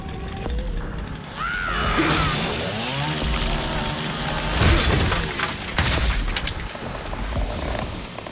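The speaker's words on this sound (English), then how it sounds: "We can use the chainsaw too." A chainsaw revs and cuts in the Resident Evil Requiem video game, loud and close, with harsh buzzing bursts over crashing, breaking impacts and eerie game sound, one strong surge around the middle.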